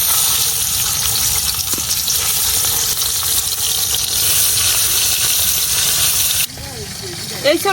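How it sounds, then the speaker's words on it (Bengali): Pabda fish frying in oil in a wok, seasoned with salt and turmeric, gives a steady loud sizzling hiss throughout that drops away near the end as a voice speaks over it. "এখন আমি লবণ আর হলুদ দিয়া মাছটি হালকা একটু ভাজে নিলাম"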